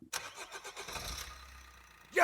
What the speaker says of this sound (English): it sounds like Curdy has gotten Van Helsing going again